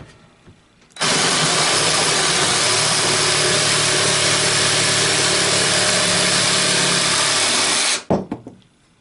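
A Craftsman 20V cordless variable-speed jigsaw cross-cutting thick pallet wood, a loud continuous buzzing whine that starts abruptly, holds steady for about seven seconds, then cuts off, followed by a few knocks.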